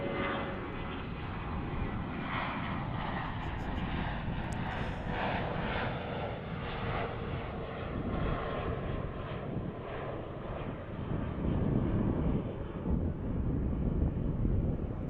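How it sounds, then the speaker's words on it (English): An Airbus A319 airliner taking off at DFW airport, a loud, continuous low engine roar with a broad rushing rumble that holds steady and swells slightly toward the end, with wind buffeting on the microphone. "I like this low takeoff attack. It's like a missile. A319 in the house."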